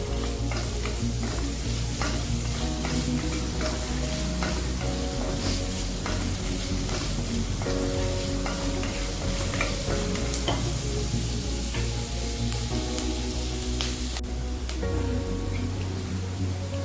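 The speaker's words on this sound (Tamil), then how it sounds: "நல்லா வதக்கிக்கலாங்க." Ingredients for green (hariyali) chicken sauté in a pan over a medium flame, making a loud, continuous sizzle with repeated stirring scrapes and clacks throughout, under steady background music.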